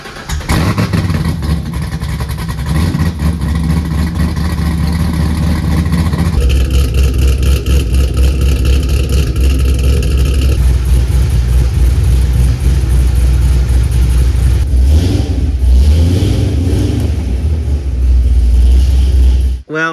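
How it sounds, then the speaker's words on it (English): Chevrolet Camaro Z28 engine, a salvage-auction car totaled in a wreck, fires up and settles into a loud, steady idle with a deep low rumble that shifts in tone partway through, running continuously close by. "let's go ahead and at least fire this thing up so y'all can hear it run."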